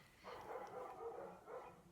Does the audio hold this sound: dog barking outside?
yes